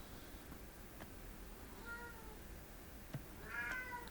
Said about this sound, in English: I'm sure you're hearing my cats in the background.